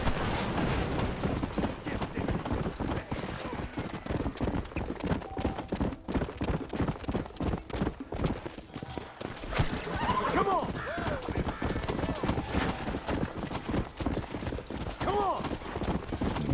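Horses clip-clopping and whinnying amid busy action in the video game Red Dead Redemption, with people talking over the hoofbeats throughout.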